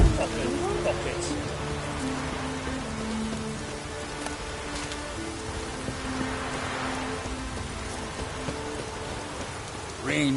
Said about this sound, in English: Rain in fucking buckets.